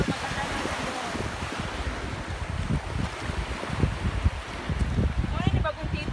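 Sea waves on a rocky beach at Oslob, a steady wash of surf mixed with wind buffeting the microphone, with voices talking nearby.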